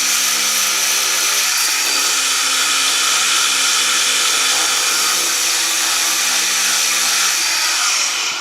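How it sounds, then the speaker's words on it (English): A power sander grinds ground-in dirt off the rails of a pontoon boat, a loud, steady high-pitched whine that holds constant for several seconds before cutting off at the end. "the reason I'm sanding it is because it's some of the dirt is really ground down"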